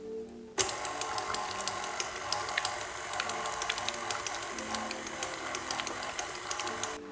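An electric mixer whirs at slow speed through cream cheese and maple syrup, starting abruptly and then running as a steady, quiet motor drone with light rhythmic ticking before stopping near the end.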